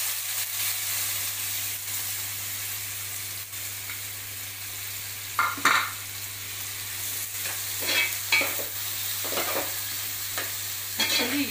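Sliced onions sizzle and fry in a wide pan while being stirred for a fish curry, a continuous crackling hiss with a low steady hum and several scraping stir bursts near the end, no voices.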